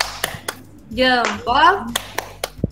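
Children give a salute clap in a classroom: a few sharp, separate claps ring out around a chanted voice, in a short call-and-response rhythm.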